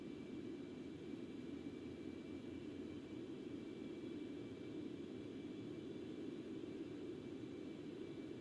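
Concorde jet engines winding back as the throttle eases in a flight simulator, a steady broadband roar with a thin high whine running through it, continuous and unchanging.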